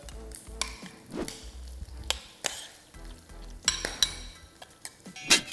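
Salad being tossed with a teaspoon of toasted sesame oil for an Asian-style salmon salad: close, irregular scrapes and sharp clinks of utensils against the bowl, spaced out over several seconds with no talking.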